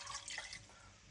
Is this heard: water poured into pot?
yes